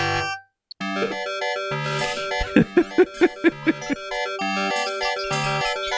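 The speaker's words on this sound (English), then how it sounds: "This is the sweet, sweet ad-lib." King's Quest V music from 1990 plays through an AdLib FM sound card, a bright synthesized melody over plucky bass notes with a run of short rhythmic stabs midway, fairly quiet and steady.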